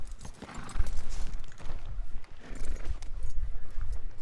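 A very large horse clip-clops in a Wild West roleplay video game, its hooves making steady, close, continuous footfalls with no pause.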